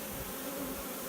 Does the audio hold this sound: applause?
no